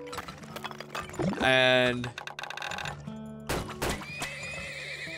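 Horses neigh loudly in a strategy game, with a long whinny over rhythmic clip-clopping hooves and game effects, while someone speaks briefly.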